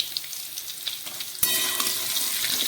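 Cut potatoes frying in a pan with salt and turmeric, a quiet crackle that jumps to a louder, dense, continuous sizzle as the seasoning goes in, with a few light scrapes.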